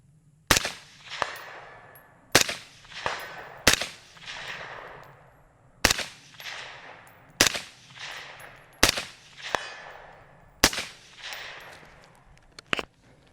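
Rifle fired unsupported through a Monstrum 1-6 LPVO at a steel target 200 yards away: eight sharp, loud shots at irregular intervals, each followed by a rolling echo, with no talking.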